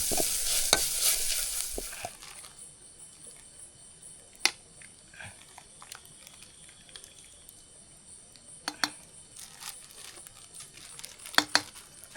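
Food fries in oil in a pot during outdoor cooking, with a steady soft sizzle and occasional sharp clicks of stirring and scraping, plus a louder splash of sizzling at the start.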